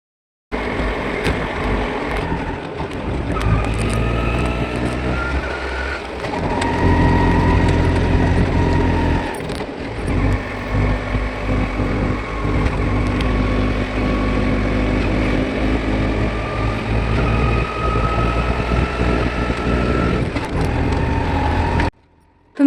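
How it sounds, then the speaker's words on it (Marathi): Auto rickshaw engine labouring under load on a steep uphill road toward Brahmagiri, a loud, continuous droning rumble heard from inside the cab with shifting pitch, rattle and wind buffeting, cutting out abruptly at the end. "बघत असाल तर रिक्षाचा आवाजसुद्धा किती लोडिंगमध्ये येतो आहे"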